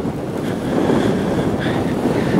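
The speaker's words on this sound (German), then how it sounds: "Es ist doch windig, aber 17 Grad müsste so gegen 17 Uhr jetzt auch sein." Gusty wind at the North Cape, Norway, buffets the microphone with a loud, rushing roar that swells and stays constant throughout.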